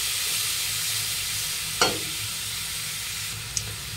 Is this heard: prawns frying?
yes